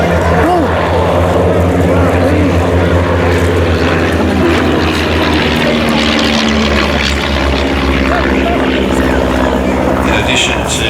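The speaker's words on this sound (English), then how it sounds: "Two former RF chipmunk aerobatics teams, the Skylarks and the Blue Tubes." A de Havilland Chipmunk aircraft flies at the Midland Air Festival, its propeller engine droning loudly and steadily throughout, with a voice talking over it.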